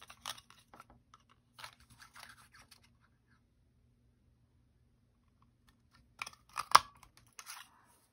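Paper strips being cut with scissors for a card-making project from a Winter Market sheetload: two short bursts of faint, crisp snipping separated by a long near-silent gap, heard close up and quiet.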